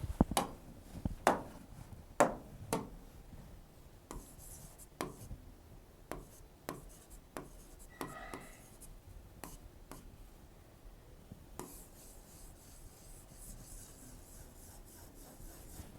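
Chalk writing out a heading on a board during a history lesson, with faint, close scratches and sharp taps in irregular bursts, then quieter rubbing toward the end.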